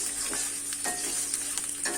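Mango pieces frying in oil in a pot, a steady sizzle under repeated scraping and stirring strokes, close and alone with no talk.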